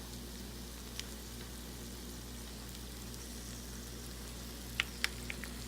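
Rendered fat from roasted bone marrow bubbling and sizzling softly in a pan just out of the oven, a steady faint crackle with a few sharp pops near the end.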